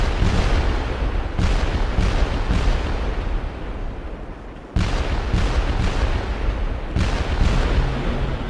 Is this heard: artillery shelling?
yes